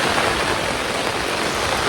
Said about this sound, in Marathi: पाऊस वाढत गेलाय